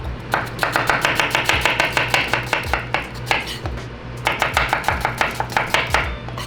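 Knife chopping onions on a cutting board for French onion soup, a fast run of close, crisp, regular chops that pauses briefly before continuing at the same steady pace.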